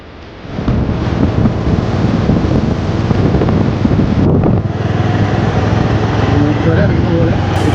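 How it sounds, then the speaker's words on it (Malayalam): Strong wind buffets the microphone in a continuous loud roar during an outdoor walk through a rainforest, and a voice is faintly audible beneath it. "നല്ല കാറ്റിട്ടോ. ഈ ചൂട് അറിയാത്തത് ഈ കാറ്റുള്ളതുകൊണ്ട് കേട്ടോ."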